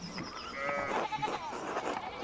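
Sheep in the video game Pentiment, a few short wavering bleats at moderate distance, heard alone without talk.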